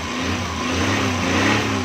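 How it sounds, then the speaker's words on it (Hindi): A Suzuki Ravi engine idles steadily just after its timing belt was replaced, a close, even, continuous hum with no speech over it. "देखें दोस्तों ये हमारी गाड़ी स्टार्ट हो गई है।"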